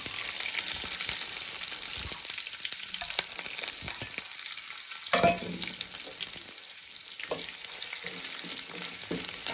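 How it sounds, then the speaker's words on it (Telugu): Chopped onion frying in hot tempering oil for semiya upma, a steady close sizzle with stirring scrapes throughout and no voices. "ఓకే పోపు అనేది బాగా వేగింది ఇప్పుడు ఉల్లిపాయ వేస్తున్నామండి"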